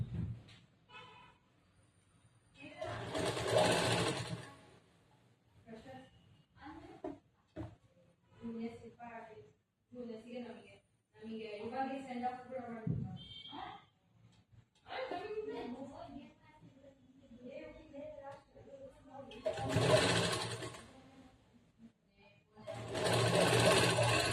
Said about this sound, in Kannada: ಇಲ್ಲಿ ಜೋಡಿಸ್ಕೊಂಡಾದ್ಮೇಲೆ ಸ್ಟಿಚ್ ಮಾಡ್ಬೇಕು